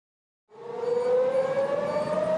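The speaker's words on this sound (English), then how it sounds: "This sound is the familiar Wanan drill siren." Taiwan's Wan An air raid drill siren begins after a short silence and rises into a loud, steady wailing tone that holds to the end.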